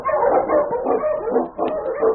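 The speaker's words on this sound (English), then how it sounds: "The Wonder Dog King, swiftest and strongest of Eskimo lead dogs, blazes the trail through storm and snow" A husky sled dog barks repeatedly in an old-time radio drama sound effect, a series of close, loud bow-wow barks in quick rhythm with brief pauses.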